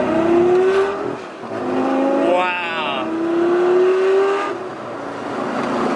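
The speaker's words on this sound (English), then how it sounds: "Let's give it a little bit of gas." A straight-piped Lamborghini Gallardo Superleggera engine revs up loudly from inside the car, rising and falling in several throttle pulls, with a brief exclaimed word over the roar.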